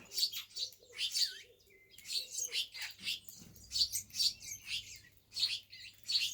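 Small colourful birds chirp in quick repeated bursts of high, bright tweets. The calls sound fairly close, come in clusters separated by short gaps, and have no voices over them.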